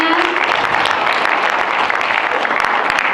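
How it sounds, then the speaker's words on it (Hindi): Loud, dense applause from an audience at a festival event, many hands clapping steadily and evenly across the whole span. "बहुत सुंदर भाव, जोरदार तालियां।"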